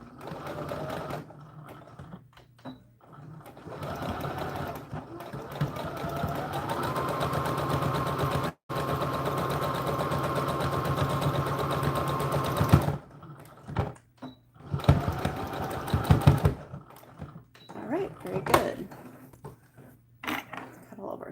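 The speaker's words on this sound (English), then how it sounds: "let's go ahead and sew the top as well." Sewing machine stitching the top seam of an American Girl doll dress, running in several close bursts of rapid whirring separated by pauses, with handling clicks and a voice speaking between stretches.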